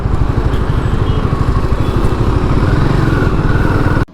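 Royal Enfield Himalayan 450 motorcycle engine thrumming steadily and loudly during a slow U-turn, a continuous close mid-pitched rumble with wind noise, ending abruptly.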